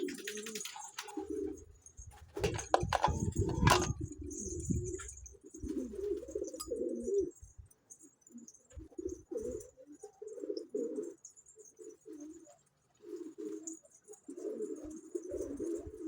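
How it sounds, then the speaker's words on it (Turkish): Pet doves or pigeons cooing in repeated low soft phrases, close by, with a burst of wing flutter and some faint chirps in between. "şifa olsun kuşlarımıza. Tüydeler kuşlarımız"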